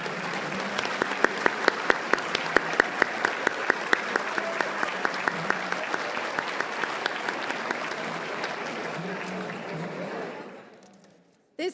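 An audience seated at an author table dinner at a book festival applauds steadily for about ten seconds, with a few sharp, close claps standing out above the sustained crowd clapping, which then fades out.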